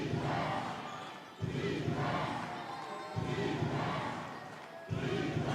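A basketball crowd cheers for the Plymouth Patriots during a Plymouth vs Caledonia game, a loud, continuous roar that swells in several waves, heard somewhat distant and without clear talk on top.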